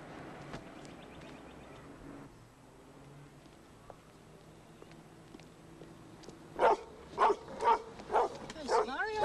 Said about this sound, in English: Well, he's a young dog, Mrs. Gordon.